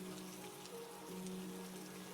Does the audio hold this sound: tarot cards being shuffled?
no